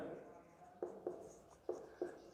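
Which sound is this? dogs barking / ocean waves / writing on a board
writing on a board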